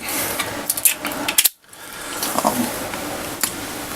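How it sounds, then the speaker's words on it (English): Double-action trigger pull on a Smith & Wesson 629 revolver, the hammer cycling back and dropping forward in a few close, crisp mechanical clicks and ratcheting taps, alone with no talk. "double action is where with the hammer down, you just pull the trigger, and it brings it back, and then drops it forward"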